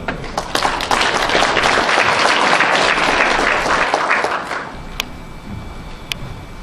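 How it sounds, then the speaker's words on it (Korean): An audience at a Korean river restoration symposium gives a speaker a round of applause: a burst of many hands clapping that holds for about four seconds, then fades to a few scattered claps and small noises. "여러분들 박수 보내주시니다"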